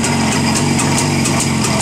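Cezet 350 Typ 472.5 motorcycle idling nearby, a steady, even chugging with regular pulses and no voices.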